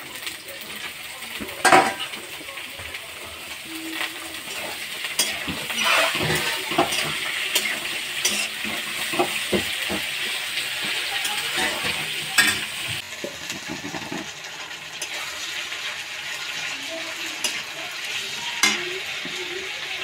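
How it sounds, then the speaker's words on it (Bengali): Chopped cabbage goes into a pan and is stir-fried for egg chow mein: loud sizzling with repeated spatula scrapes and clatters against the pan, plus a few pot knocks, close by. "এখন দিয়ে দিচ্ছি বাঁধাকপি কুচিগুলো।"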